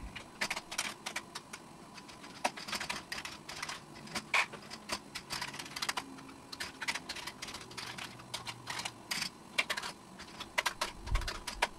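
Keys being pressed one after another on a Commodore 64 keyboard under test, sharp plastic clicks and clacks in an irregular steady patter, close and moderately quiet against a faint background hum.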